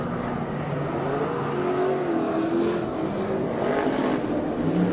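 Sprintcar engines roaring past on a dirt oval at a Hawkes Bay sprintcar masters meeting, a loud continuous rasp with rising and falling pitch as the car sweeps by close to the track edge.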